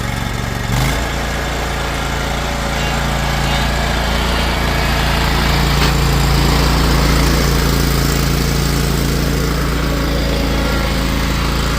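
Lawn mower engine running steadily while mowing a roadside ditch, a loud continuous close drone that holds throughout after a brief start-up bump, with no voices.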